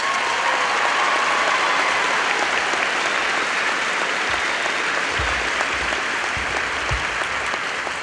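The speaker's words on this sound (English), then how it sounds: "So if I could get one big round of applause for all the proud fathers in the room." A crowd at a high school graduation ceremony gives a sustained round of applause, dense steady clapping filling the hall from start to finish, with a few louder claps near the end.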